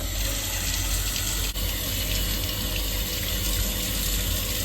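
Tap water runs steadily from a faucet while homegrown strawberries are rinsed at a sink, a continuous close gushing stream with no voices over it.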